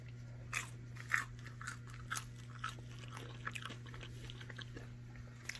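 Crunchy roasted vegetables with a butter sheen, likely maple carrots, being bitten and chewed close up: a handful of sharp crunches spread irregularly over a few seconds above a steady low hum, with no talking.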